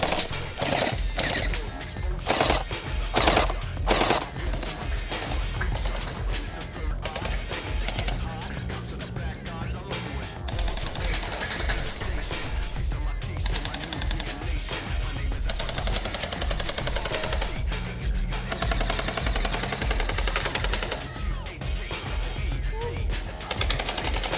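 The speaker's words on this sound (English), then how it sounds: "Love that burst fire, y'all." A Havoc gel blaster fires in burst mode, rapid clusters of loud snapping shots repeated across the stretch, with people talking and reacting excitedly between and over the bursts.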